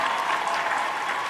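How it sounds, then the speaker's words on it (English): Canned applause sound effect triggered from a Stream Deck button: a short, steady burst of crowd clapping, moderately loud and heard alone. "you can have more than one applause button on your Stream Deck if you wanted to"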